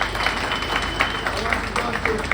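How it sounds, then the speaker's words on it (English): An audience at the inaugural ride of a new Staten Island ferry breaks into steady applause, dense clapping filling the space while voices talk underneath. "Let's give John a big round of applause."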